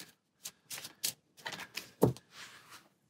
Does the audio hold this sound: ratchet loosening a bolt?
no